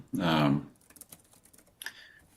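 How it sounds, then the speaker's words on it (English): Keys clatter on a laptop keyboard in quick, light clicks close by, following a short burst of speech and rising again near the end. "You can see it's not moving at all when Lon's typing on those keys."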